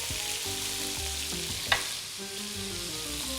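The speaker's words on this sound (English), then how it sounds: "So we want to get this really, really nice and hot because we want to brown it and sear all those wonderful juices in." Meat searing in a very hot pan, a constant close hiss of sizzling with one brief sharp clink partway through, no voices.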